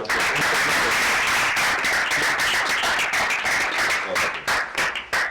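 An audience at a poetry reading in a secondary school hall claps for the poet, dense and sustained, filling the room without any talk, thinning slightly toward the end.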